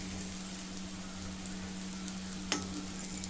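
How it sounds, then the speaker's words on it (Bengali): Chicken pieces fry in a pan over lowered gas, a soft, even sizzle that holds steady with a constant low hum and one sharp clink near the end. "ভাজা হয়ে গেছে, এবার আমি তুলে নেবো। গ্যাসটা আমি এখানে কমিয়ে দিয়েছি।"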